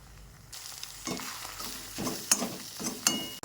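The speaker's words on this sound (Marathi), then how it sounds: "गॅसची फ्लेम थोडीशी फास्ट करू आणि हे चांगलं हलवून घेऊ" Masala scrambled eggs (anda bhurji) being stirred and frying in a pan, a sizzling hiss punctuated by several distinct scraping strokes of a spoon, close and fairly loud, with no talking.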